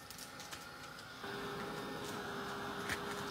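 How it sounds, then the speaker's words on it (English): A heat gun drying distress ink on a journal page, a faint, steady whirring hum that switches to a slightly louder, higher tone partway through, with no talking. "I'm quickly going to hit that with my heat gun just to make sure"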